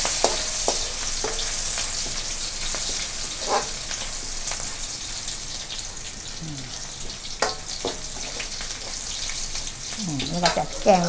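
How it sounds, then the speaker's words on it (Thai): Chili stir-fried in a pan for spicy New Zealand mussels, a steady close sizzle with scraping stirs and clinks throughout, and brief bits of a voice near the end. "จะผัดพริกก่อนนะคะ"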